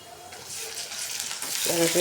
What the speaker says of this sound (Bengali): এখন মশলা আমি কষাই নেব।